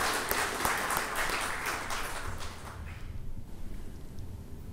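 An audience applauding to welcome the state governor at a formal function, dense clapping that is loud at first and then thins and fades, with no talking.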